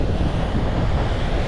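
Wind-driven sea waves rolling onto a trash-strewn beach, a loud, steady roar of surf mixed with heavy wind buffeting the microphone.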